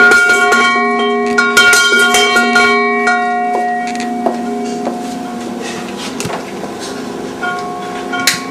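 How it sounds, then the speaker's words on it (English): A small bell rings repeatedly in an uneven rhythm during a séance at a restaurant in Crystal Beach, Ontario, each bright metallic strike sustaining with a clear ringing tone, close and loud, alone. "Swing the censers, ring the bell, invite the spirits, they will tell."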